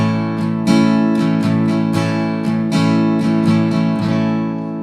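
An easy strumming pattern played on a guitar: loud, close chords ringing continuously, with regular down-and-up strokes marking a steady rhythm and no voice.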